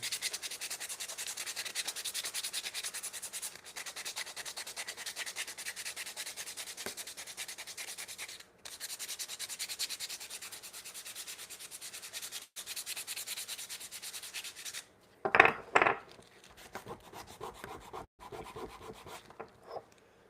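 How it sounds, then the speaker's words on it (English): Hand rubbing or sanding at a wooden mallet to remove glue residue in a hand-tool woodworking shop, a steady close scratchy friction that runs continuously, pauses briefly, then gives way to a few sharper knocks and quieter scraping. "I just kind of want to get off that glue residue that's on there."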